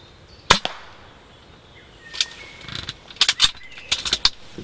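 A sharp, close crack from an air rifle shot at a squirrel in a pest-control setting. Several fainter clicks and rustling knocks follow in an uneven cluster.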